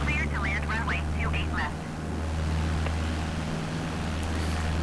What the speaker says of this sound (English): Fire up the engine.